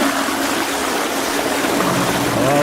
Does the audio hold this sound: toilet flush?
yes